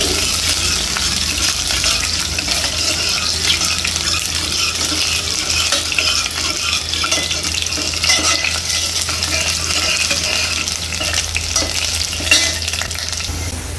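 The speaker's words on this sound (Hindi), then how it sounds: "प्याज फ्राई हो गए हैं" Onions sizzle and crackle steadily in hot oil, close up, with occasional stirring scrapes in the pan and no talking.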